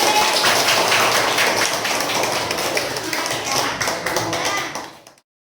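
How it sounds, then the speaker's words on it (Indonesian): Students in a classroom clap for a classmate, a bright, busy patter of many hands that carries on steadily before stopping abruptly. "tepuk tangan untuk teman kalian"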